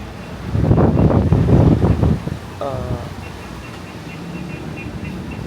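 Steady wind roar rushes across the whole clip on a 15th floor in Tagaytay, with people talking loudly over it at first and a faint whistling tone near the end.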